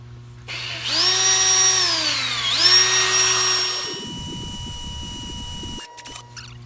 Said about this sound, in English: If we put a battery in it, drill this sucker out.